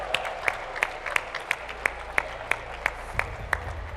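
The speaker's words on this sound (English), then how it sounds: "Another round of applause, ladies and gentlemen." Sparse, rhythmic clapping from an audience at a startup pitch competition award moment, about a dozen distinct claps evenly spaced, moderately near, with a low murmur underneath and no speech.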